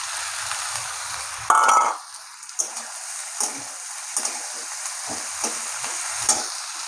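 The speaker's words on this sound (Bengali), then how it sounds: "এখন আমি এগুলো ভালো করে ভেজে নেবো," Potato, green chilli and onion fry in a pan with a continuous sizzle, broken by a sharp burst and several short scraping stirs, fairly close and with no talking.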